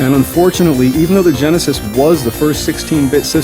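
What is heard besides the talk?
No everyday noise stands out behind the speech.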